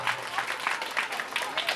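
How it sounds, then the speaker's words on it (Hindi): Attendees clap at a Hindi devotional discourse gathering as a guest is garlanded. A short burst of lively clapping comes in uneven pulses, fairly close. "बड़ी जोरदार ताली होनी चाहिए"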